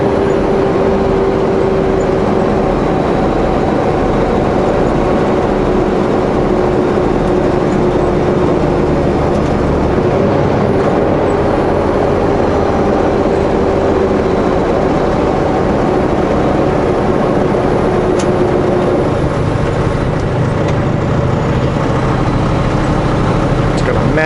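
A truck cab fills with a loud, continuous low drone from the engine brake and cooling fan during a long descent, a steady roar with a faint whine running through it.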